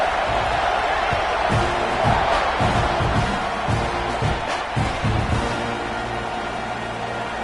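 A stadium crowd in the College Football 26 video game roars at kickoff, a loud continuous wash of cheering with scattered thumps and whoops rising and easing over several seconds, with no talking.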